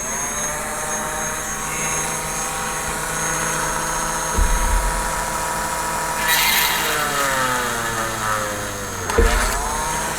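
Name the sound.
drilling a hole with a 2.5mm drill bit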